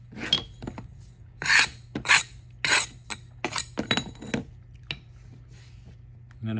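A straight edge scrapes excess sand off a sand-casting mold in a series of rough, raspy strokes, each a short burst with pauses between, close up and clear, with no talking.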